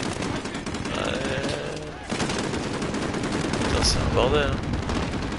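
Gunfire in the Call of Duty Modern Warfare campaign: dense, loud bursts of automatic shots and crackling explosions in a chaotic firefight, with someone talking over it.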